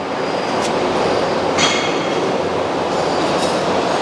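The 24 stations of an upright rack roll forming machine slide along their rails, giving a steady loud rumbling grind with a few brief high squeals, no voices.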